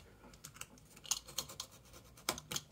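A knife scoring light repeated cuts along a marked line in a seated terrace build, giving short dry scratching strokes in an irregular rhythm, close and fairly quiet with no talking.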